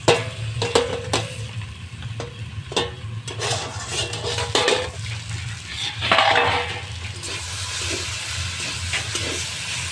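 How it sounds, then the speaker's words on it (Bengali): Kalmi greens frying in a pan as the lid comes off, with clanks and scrapes of utensils against the pan over a continuous sizzling hiss that swells briefly near the middle. "2 মিনিট বাদে আমি ঢাকা খুলে দিচ্ছি।"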